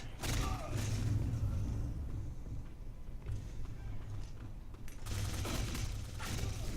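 In the online shooter Black Squad, gunfire and grenade explosions make a dense, fairly faint wash of shots and low booms. The noise runs almost continuously and swells again near the end.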